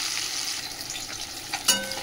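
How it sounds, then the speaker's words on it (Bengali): Bhetki fish sizzles in hot oil in a pan: a steady, close, bright hiss of frying, with a short clatter near the end, and no voices. "এই যে মাছটা এবারে ভাজে নিই"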